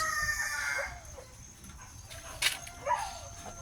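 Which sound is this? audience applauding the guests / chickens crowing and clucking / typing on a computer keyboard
chickens crowing and clucking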